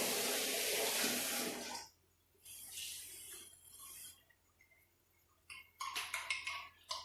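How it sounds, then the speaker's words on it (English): Cold water running from a kitchen tap, a broad hissing splash that cuts off after a couple of seconds, followed by quieter trickles and light clinks, with no talking. "Cold water, very important. Just let it run cold."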